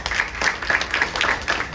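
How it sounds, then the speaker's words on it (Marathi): An audience gathered for a devotional discourse claps together in a lively, rhythmic burst of applause that keeps going steadily, loud and close. "जे खरे ते शिलेदार आहेत त्यांच्यासाठी आपण एकदा टाळ्या वाजवू"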